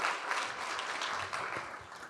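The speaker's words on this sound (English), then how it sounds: "Applause, applause here." Studio audience clapping on a current-affairs talk show, a full dense round of applause that sustains evenly throughout without any voices over it.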